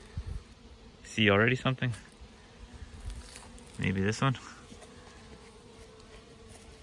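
Honey bees buzz around hive frames while a beekeeper fixes a drone-laying colony, a steady insect drone sitting under two short stretches of nearby talk.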